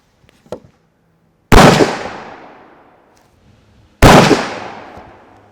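An Encore Katahdin rifle chambered in 400 Legend fires two loud, close shots a few seconds apart. Each blast leaves a long, fading echo tail, and there is a faint click before the first shot.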